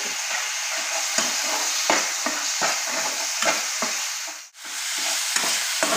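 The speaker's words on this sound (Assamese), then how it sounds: "মছলাখিনি ভজা হৈ গ'ল" Spices and fenugreek frying in a pan for a fish curry with onion and tomato, a constant bright sizzle broken by repeated scraping stirs and a brief dip near the end, close and loud.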